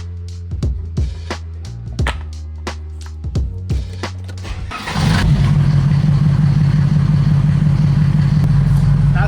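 Mercedes engine freshly filled with Liqui Moly MoS2 10W-40 oil: a few uneven cranking bursts with intermittent chugs, then it catches at about five seconds into a loud, steady, close idle hum that runs to the end.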